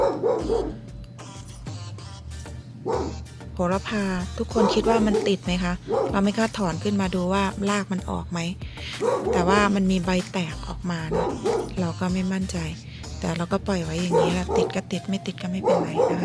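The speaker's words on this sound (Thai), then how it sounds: "หมาข้างบ้านมันเห่าเนาะ" A neighbour's dog barks repeatedly in the background of a home garden in New Mexico, its yips and woofs steady but half-masked by someone talking close up throughout.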